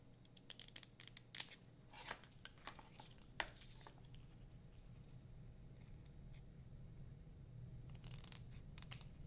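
Scissors snip through paper to cut out letters, a scatter of quick crisp cuts and crinkles near the start and again toward the end, over a low steady room hum.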